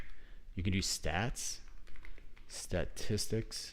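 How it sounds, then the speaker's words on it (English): Rapid mechanical keyboard typing clicks and taps near the mic, mixed in with a person talking over the keystrokes. "Which keyboard is that so creamy sound?"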